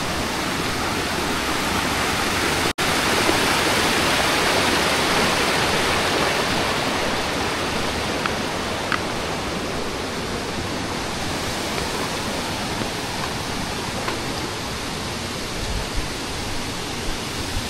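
Cabugahay Falls waterfall roaring in a steady, dense broadband rush close by, continuous and unchanging throughout, with one brief sharp click early on.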